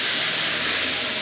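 Ginger-garlic paste hitting fried onions in a large commercial pot of chicken pulao gives a loud, steady sizzling hiss that never lets up, with no voices.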